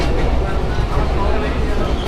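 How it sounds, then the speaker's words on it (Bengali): A passenger train on the Faridpur to Bhanga line jolting along, a loud steady rumble and rattle heard from inside the carriage with no pauses. "ট্রেন খুবই ঝাঁকি লাগতেছে"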